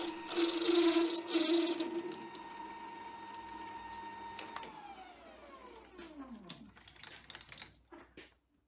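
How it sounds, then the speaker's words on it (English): A metal lathe parts off a small bolt for a bolt action pen, giving a steady high cutting whine with a sustained tone that drops in pitch near the end as the piece separates, followed by faint clicks, close and moderately quiet. "With the thread tapped, I can part off the bolt."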